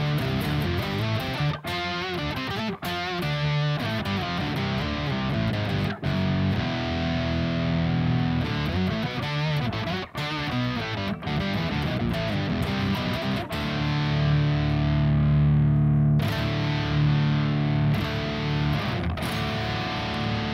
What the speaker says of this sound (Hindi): मैं अभी एक नोट बजा रहा हूं, लेकिन आप सुन रहे तीन note at the same time. इसका मतलब मैंने दो ऑक्टेव ऐड किया है इसमें, एक लो वाला एक हाई वाला।